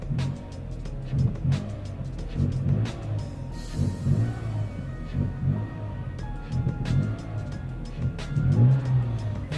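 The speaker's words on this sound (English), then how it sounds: "it sounds like it's misfiring actually" A car engine idling rough and uneven, starved of air or fuel from a faulty mass air flow sensor, with a low loping beat, periodic surges and irregular stumbles, heard close and steady.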